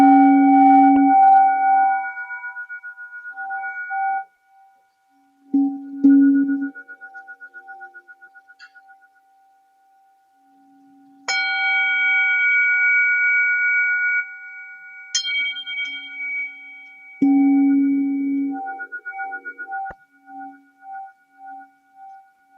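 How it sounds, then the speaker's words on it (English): A singing bowl rings in separate strikes, each tone sustaining with slow wavering overtones, one clear ringing pitch carrying through the gaps while shorter bright tones come and go and the sound fades in pulsing waves at the end. "And the bowl would sound like this."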